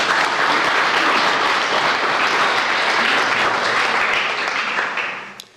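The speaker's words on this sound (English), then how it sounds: "I still think she deserves a round of applause." A crowd at a camogie awards night gives a steady round of applause, many hands clapping loudly and evenly before the sound thins and fades out at the close.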